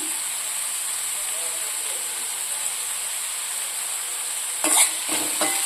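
Vegetable pieces with curry leaves and salt fry in a pan for a curd tempering, giving a steady, even sizzling hiss throughout with a brief louder burst of stirring near the end.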